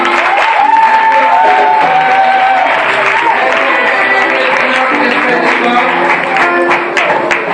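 A church congregation applauding and cheering the brothers and sisters during a service, with dense sustained clapping and crowd noise, music and voices mixed in throughout.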